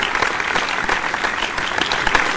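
An audience claps steadily in dense, even applause at a beauty pageant, a continuous patter of many hands without voices rising above it.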